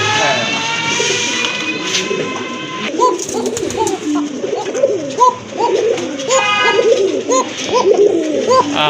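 Pigeons offered at a bird sale, including Giribaz, Gola racer and fancy breeds, coo repeatedly in a steady rhythmic series close by, with faint chirps and background murmur.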